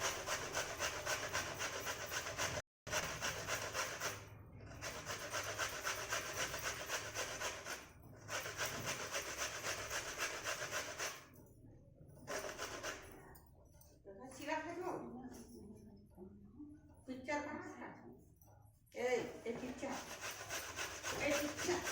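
Fresh coconut pieces from two coconuts rubbed against a hand grater, giving a steady scraping rasp that runs in long stretches with brief pauses, then turns choppier near the end, with a voice talking over parts of it.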